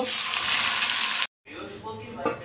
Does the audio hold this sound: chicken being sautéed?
yes